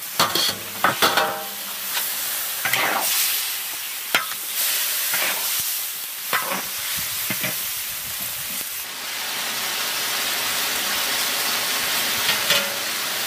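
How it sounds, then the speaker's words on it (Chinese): Fried fish goes into a braising pot with pork ribs and softshell turtle, giving a loud, steady sizzle and hiss with scattered clatters and stirring knocks that gradually settle into a continuous frying hiss. "来把煎鱼放下来继续焖"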